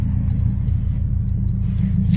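A Subaru Impreza WRX STI engine idles down on its turbo timer, a steady deep low rumble close by with faint high beeps twice.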